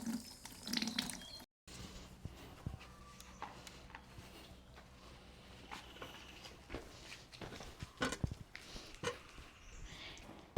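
Raw green mangoes washed under a running kitchen tap, a faint, steady trickle of water with soft splashes and handling noises nearby, no voices.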